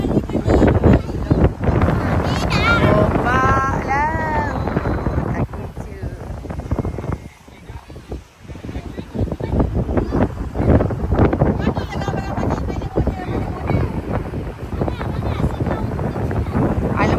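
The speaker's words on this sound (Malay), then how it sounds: "Angin kuat" Strong wind at a seaside homestay on Pantai Puteri, Melaka, roars and buffets the microphone in a loud, continuous rumble, with voices talking over it.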